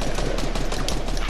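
Rapid gunfire in the video game Fortnite, a dense, loud burst of repeated shots filling the whole moment with no one talking over it.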